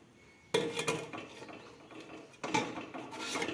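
Metal idli plates set into a steamer pot, two sharp clanking stacks of clattering metal about two seconds apart, close and fairly loud over a quiet kitchen background.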